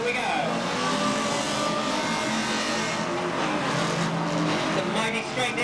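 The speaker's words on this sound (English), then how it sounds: "Some mighty straight engines by the sound of things" Several banger racing car engines roar together at full throttle at Ringwood Raceway, a dense, continuous snarl with tires squealing, heard from trackside amid crowd noise.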